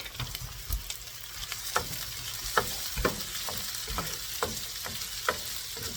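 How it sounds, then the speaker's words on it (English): Jumbo shrimp coated with ginger, garlic and onion are stirred in a hot pan for fried rice. A steady sizzle runs underneath irregular scrapes and clinks from the utensil, close and moderately quiet, with no voices. "And then we're gonna stir."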